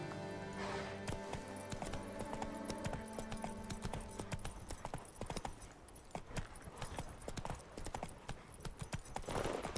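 Hooves of Roach, a horse in The Witcher video game, clip-clop in a steady rhythm at close range, with some jingling tack and game sounds running underneath.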